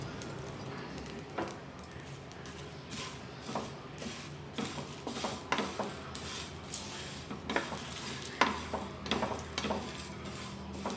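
Spices with torn bay leaves and kasuri methi are stirred in a pan for chicken pickle, with a soft sizzle beneath irregular scraping and clinking of a spoon against the pan.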